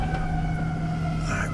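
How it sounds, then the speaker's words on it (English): An ambulance siren wails steadily in the background on a street, a sustained tonal whine with no clear pass-by change over the short stretch. "Give that ambulance just a minute to pass away"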